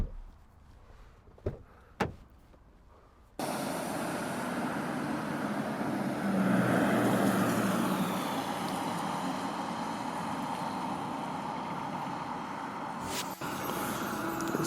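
A 2015 Audi Q5 2.0 TDI S line Plus quattro diesel gives a few sharp clicks and knocks, then its engine comes in with a steady, fairly quiet rumble and road noise that carries on, with another click near the end.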